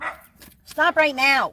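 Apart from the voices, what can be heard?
dog barking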